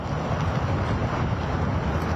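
Strong wind from tropical storm Bertha blasts across the microphone as a dense, continuous roar of buffeting noise, loud and close, with no voices heard.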